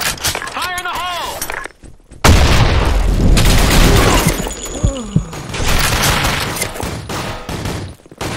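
A grenade explodes on the Office map of a shooter game: a sudden loud boom bursts through, then a long crackling rumble of debris and gunfire, with a voice shouting in the game before the blast.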